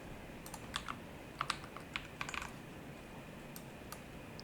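A computer keyboard is tapped in short, irregular bursts of light, crisp clicks, close but quiet, with pauses between keystrokes while someone enters text into a study planner form. No one speaks.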